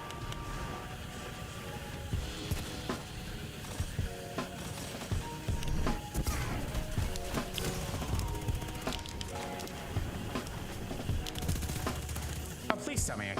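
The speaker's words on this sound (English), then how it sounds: "Mida is the only weapon that can shoot that fast as a scout rifle" In a video game, the Mida scout rifle fires in fast bursts of sharp gunshots, mixed with other game sounds and effects and some talk.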